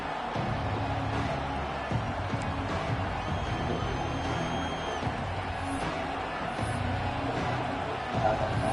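Steady stadium crowd roar in a Madden 25 football game, a dense continuous wash of many voices holding at an even level throughout, with a faint swell near the end.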